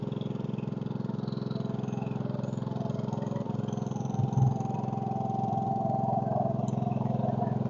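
Case 224 garden tractor engine running steadily at about 2,500 RPM to drive a wood splitter, a constant mid-pitched hum at moderate distance with a short low thump partway through.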